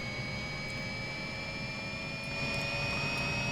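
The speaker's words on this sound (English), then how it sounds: "I'll turn that up so you can hear the awesome little jet." A small Beast Horus microjet engine in Microsoft Flight Simulator whines steadily with a high turbine tone over broad roar, growing slightly louder near the end, with no talk.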